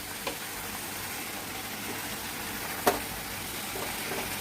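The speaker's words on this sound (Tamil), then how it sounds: "கொஞ்சம் நேரம் வதங்கட்டும்" Mint chutney ingredients sauté in oil in a pan, giving a quiet, steady sizzle with a single soft clink partway through.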